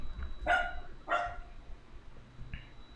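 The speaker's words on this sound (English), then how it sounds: "Can you hear my dog?" A dog barks indoors, two sharp close barks followed by a fainter yip after a pause, with no talking over them.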